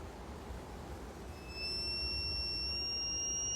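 A frequency generator emits a steady, piercing 4,000 hertz pure tone from about 5 meters away. It switches on partway through and holds constant and loud over a low background rumble.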